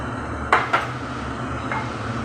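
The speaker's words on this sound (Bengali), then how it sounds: "এইভাবে আমি যেভাবে ভাজছি আপনারা অবশ্যই একবার এভাবে এঁচোড়টাকে ভেজে নেবেন" Pan and utensil sounds while jackfruit pieces fry in oil: two quick clinks close together, then a softer third, over a steady low background hiss.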